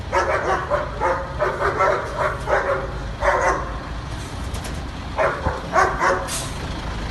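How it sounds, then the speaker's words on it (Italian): Several dogs bark in repeated bursts, fairly loud and close, over a steady low background rumble. "Guarda i cani, guarda."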